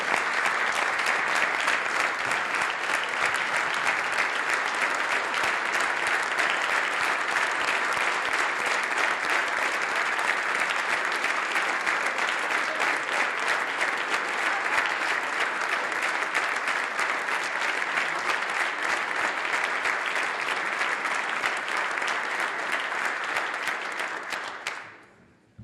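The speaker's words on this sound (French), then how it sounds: "On doit tous applaudir cette grande avancée." Sustained applause from members of parliament during a throne speech session, a dense, even wall of clapping lasting over twenty seconds before it cuts off abruptly at the end.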